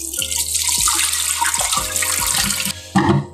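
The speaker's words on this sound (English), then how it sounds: "The last thing I want to do is just do a last rinse with distilled water." Distilled water runs for a final rinse during film development, a loud steady splashing pour from a tap with a resonant ringing tone, shifting and briefly faltering near the end.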